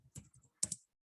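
Typing on a computer keyboard, a few quick key clicks in two short bursts with a pause between them, close and alone in an otherwise quiet room.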